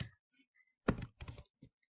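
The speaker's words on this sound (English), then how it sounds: "Click enter on your keyboard." A computer keyboard typed on in a quiet room, a few isolated soft clicks followed by a denser burst of keystrokes and one last tap, close and clear with no talking.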